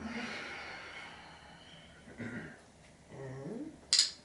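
Kapalabhati yoga breathing with forceful exhalations, heard as a few sharp, airy nasal puffs spaced apart over a faint, quiet background, with no talk.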